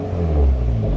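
A turbocharged Acura Integra engine revs hard with a deep, rumbling exhaust note, loud and close, holding steady for about a second.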